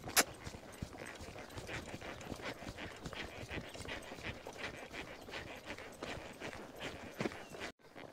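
Horses walk along on a farm outing in Cuba, their hooves clip-clopping in a steady, faint, continuous rhythm with some breathing mixed in.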